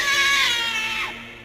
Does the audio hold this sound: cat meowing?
yes